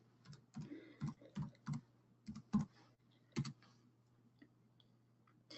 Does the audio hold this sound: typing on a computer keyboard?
yes